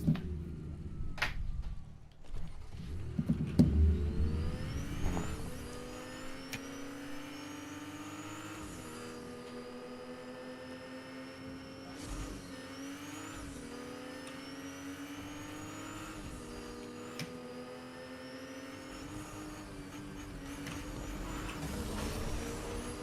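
A car in Fortnite drives and revs steadily, its engine tone climbing and dropping in repeated gear-like sweeps, with a louder cluster of knocks and thumps near the start before settling into a continuous drone.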